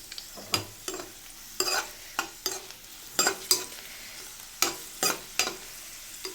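Dry fruits frying in a kadai for jaggery rice, a spoon scraping and tapping the pan in about a dozen sharp, regular strokes over a soft sizzle, close up and with no voices.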